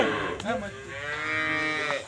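Cattle at a sale of buffaloes and cows give one long, loud, close moo with a droning, harmonic tone, alone, lasting about two seconds.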